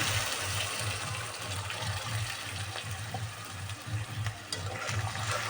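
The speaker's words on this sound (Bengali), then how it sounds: "এখন আমি একটু পানি দিয়ে দেব এই মশলাটার মধ্যে।" Water poured into ginger-garlic paste masala frying in a pan for a Bangladeshi chicken and potato curry gives a steady, loud sizzling hiss with a low rumbling bubble throughout, no talk.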